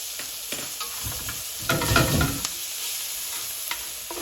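A chunk of butter sizzles in a pan with steak and onions, a close frying hiss with stirring scrapes that swells in the middle before settling back to a steady crackle.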